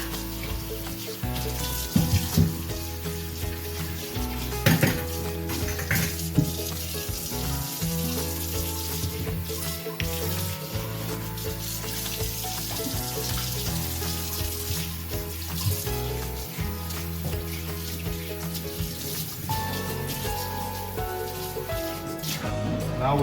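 Tap water running steadily into a stainless steel kitchen sink for a rinse, a continuous hiss and splash with occasional louder knocks, close and fairly loud throughout.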